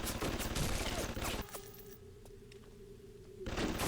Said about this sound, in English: what is that turret even shooting at?